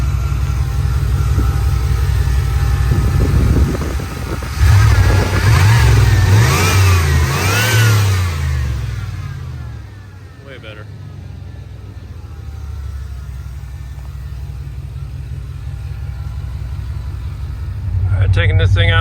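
A Chevy 5.7 V8 engine, freshly repaired after an intake leak, idles smoothly, revs up sharply for a few seconds, then settles back to a steady low idle, with a person talking nearby.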